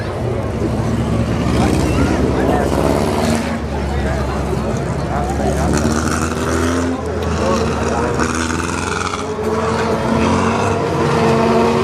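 Midget race cars rolling onto the dirt track at Southern Raceway for a Southern State Midget Series heat, loud engine drone with grinding surges throughout, mixed with crowd noise and an announcer talking over it.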